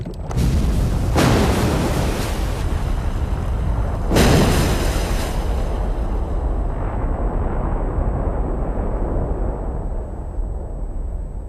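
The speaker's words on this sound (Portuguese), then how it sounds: "Há sinais de explosões enormes que estão a alterar o formato da superfície da Terra." Two huge explosions burst out, each followed by a deep rolling rumble that lingers and slowly fades, loud and close.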